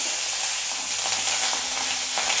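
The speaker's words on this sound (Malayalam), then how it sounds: "കടുക് പൊട്ടിയിലേക്ക് കരിവേപ്പിൻ്റെ ഇല ഇട്ട് കൊടുക്കുക" Curry leaves sizzle loudly in hot oil with popped mustard seeds and dried red chillies for a green gram tomato curry, a dense continuous crackling hiss with small pops, close and without talk.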